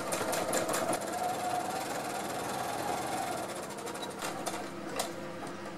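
A sewing machine runs a straight seam on a baby sheet, its rapid, even needle chatter continuing throughout, close and fairly loud, with a few slight changes in pace near the end.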